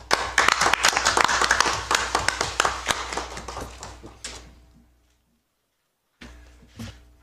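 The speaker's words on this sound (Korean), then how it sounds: "힘찬 박수로" Audience applause welcoming a speaker at a Democratic Party of Korea event, a burst of close, lively clapping that fades out after about five seconds, followed by silence and a few scattered claps.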